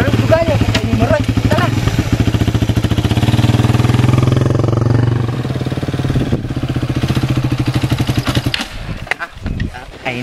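A motorcycle engine idles with a steady, throbbing rumble close by, briefly rising in pitch as the throttle opens.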